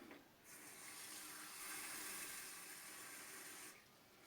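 Cold water streams steadily into a Turkish coffee pot (cezve) for about three seconds, a close, even rushing flow that starts and stops abruptly in a quiet kitchen.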